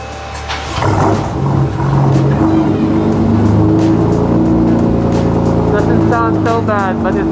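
A Toyota Supra's 2JZ twin-turbo 3-liter engine revs loudly close by, its raw, rasping exhaust rising and holding a deep drone, with voices faintly in the background.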